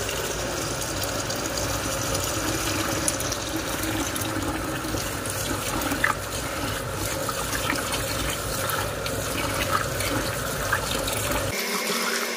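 Rice is washed under a running kitchen tap, a loud continuous rush of water splashing into the pot for several seconds before the flow cuts off abruptly near the end.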